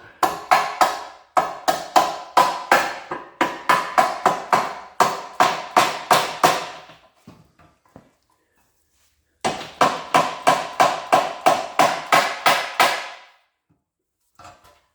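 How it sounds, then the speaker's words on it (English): A mallet strikes a bolt during engine alignment, a long series of sharp, rhythmic metallic knocks about twice per second, loud and close, pausing for a couple of seconds before a second run of blows, no talking. "So I'll take a mallet. I'm not beating on the end here. I've got the bolt in. I'm going to hit on the bolt."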